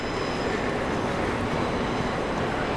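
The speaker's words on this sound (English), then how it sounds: "that's a tram" A tram passes along an Edinburgh city street, giving a steady, broad rumble and roar that holds at an even level throughout.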